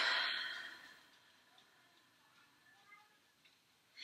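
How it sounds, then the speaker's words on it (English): A slow, deep breath in and out during acupressure practice, a soft airy exhale fading into quiet, close and faint, followed by a slight breath at the end. "I usually like to close my eyes and take a deep breath in"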